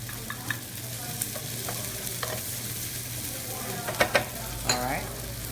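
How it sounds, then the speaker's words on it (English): Onions added to a hot pan, giving a continuous close frying sizzle with a few stirring scrapes and clinks, and no talk over it. "This is hot, and I'm going to add my onions."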